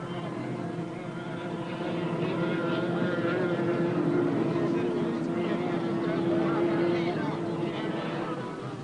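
A racing powerboat roars across the water in a 1983 race, its engine a loud, steady drone under continuous commentary, with the pitch holding high and rising slightly as it passes.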